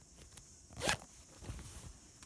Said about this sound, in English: and I can do up my zip here